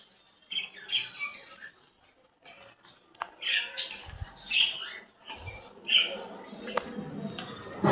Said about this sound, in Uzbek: Qushlar bor, mushuklar bor.